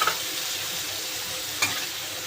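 Ginger-garlic paste and tomato paste frying in a pan, a continuous broad sizzle with a couple of soft spoon scrapes, close and without any talking.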